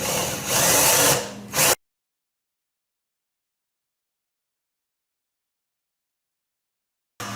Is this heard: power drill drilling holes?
yes